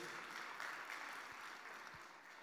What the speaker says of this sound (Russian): Кто-то хлопает